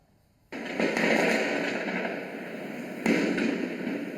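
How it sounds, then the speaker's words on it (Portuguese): Fireworks set off to scare herons roosting in trees at a city-centre cemetery in Santarém, a dense crackling burst that starts suddenly and sustains, with a second sharper surge near the end, fairly close. "Garças estão sendo atacadas com fogos de artifício no centro da cidade."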